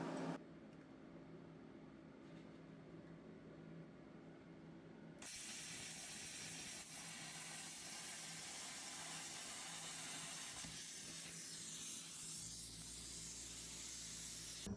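A Langmuir Crossfire Pro plasma cutter slices along a straight line through metal, a steady loud hiss and roar with crackling that kicks in abruptly and runs continuously to the end, no talking.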